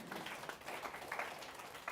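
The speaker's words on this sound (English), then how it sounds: "Round of applause for Josh." A small audience at a talk on Kabbalah gives a round of applause for Josh, a steady faint wash of clapping hands heard from a distance, continuous throughout.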